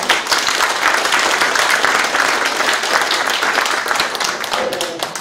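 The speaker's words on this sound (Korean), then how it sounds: "다시 한번 큰 박수" A crowd at a Korean city mayor's town-hall meeting with residents breaks into loud, sustained applause, dense clapping close and full for about five seconds before tapering slightly.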